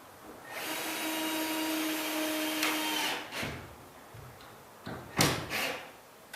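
Screws driven into a drywall ceiling patch in a garage with water damage, a steady whirring run of a driver lasting a few seconds, followed by a couple of short sharp knocks and clicks close by.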